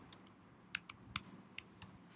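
A few quiet, scattered keystrokes on a computer keyboard as someone types a JavaScript function, with short pauses between clicks.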